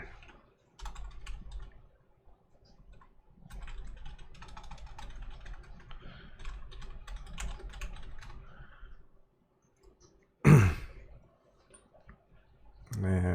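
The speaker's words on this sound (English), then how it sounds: "Let's just go ahead and type it in." Typing on a computer keyboard, a steady run of soft clicking keystrokes at close range across most of the stretch, then a pause and a brief louder thump near the end, with no talk over it.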